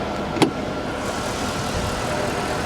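A steady engine hum runs throughout at moderate level, with a single brief click near the start and no talk.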